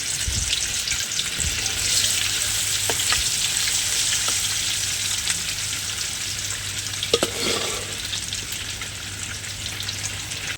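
Salt-and-chilli-spiced fish frying in a pan, Nellore style, with a continuous close sizzle, scattered crackles and a low hum underneath, no talking.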